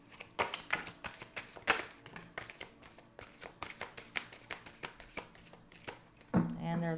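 Rapid, crisp tarot card shuffling in repeated riffling bursts, close up, with a brief voice near the end.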